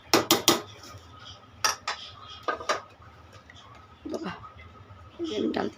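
Cooked vegetable curry poured out of a metal wok, with sharp clanks and scrapes of utensils against the pan in irregular bursts, and a person talking between them.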